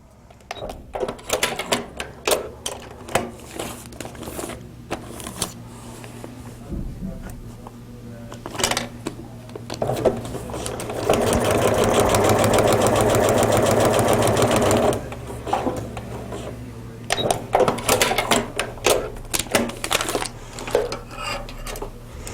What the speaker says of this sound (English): you sew exactly on the black line because you don't want to sew beyond it.